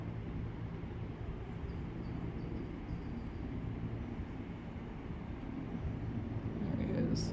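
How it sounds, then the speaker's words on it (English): A continuous low rumbling drone of helicopters overhead fighting a wildfire near Oroville, steady and fairly loud, swelling slightly near the end, with no other distinct sounds. "Good to hear the choppers."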